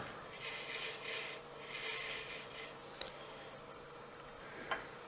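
A bowl gouge cuts wood on a lathe while a small finial is turned without a chuck, giving a steady, soft rasping scrape with two brief sharper ticks, close by and alone.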